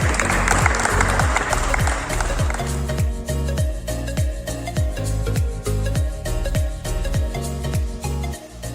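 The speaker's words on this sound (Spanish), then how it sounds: "Un fuerte aplauso al Señor por la vida de nuestro pastor." A church congregation applauds loudly for a few seconds; the clapping then fades under steady, rhythmic drum beats from music.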